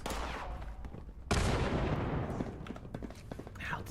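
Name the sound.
turret gunfire in the video game Fallout 76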